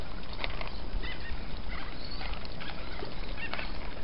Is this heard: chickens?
yes